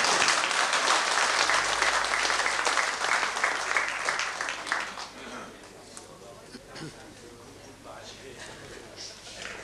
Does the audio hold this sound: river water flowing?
no